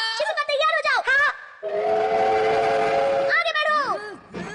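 A cartoon train sound effect from the Human Railroad Set in a Doraemon episode: a sustained train-whistle tone blares between bursts of animated voices speaking, loud and close.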